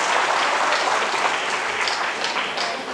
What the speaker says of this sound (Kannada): ದಯವಿಟ್ಟು ನಿಮ್ಮೆಲ್ಲರ ಒಂದು ಚಪ್ಪಾಳೆಯ ಸ್ವಾಗತ.